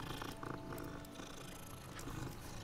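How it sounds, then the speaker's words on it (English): Cats in the video game Hogwarts Legacy give a soft, continuous rumbling purr that stays faint and even throughout, with no voices. "There's a crazy amount of cats in here."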